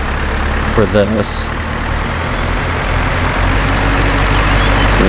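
A tractor engine runs steadily in a farming video game set on a dairy farm, a constant low drone that lasts throughout, with a brief word of speech and a short high electronic tone near the start.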